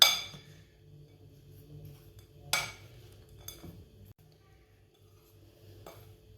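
A spoon scrapes and clinks against a pan as panjiri is stirred with warm ghee, giving a few sharp metallic taps among quieter scraping in an otherwise still kitchen.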